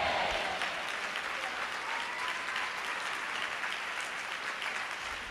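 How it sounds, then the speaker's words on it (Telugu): Steady, dense applause from a congregation during a church service, sustained and fairly loud for several seconds, tapering slightly toward the end. "సరిపోలా చప్పట్లు."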